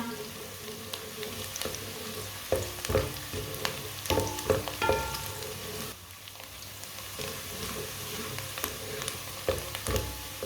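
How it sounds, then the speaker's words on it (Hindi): Onions fry in a pan toward light brown, a continuous close sizzle broken by clattering stirring and a few brief tonal clinks midway, with no talking. "प्याज को हल्का सा ब्राउन करना, फुल ब्राउन नहीं करना।"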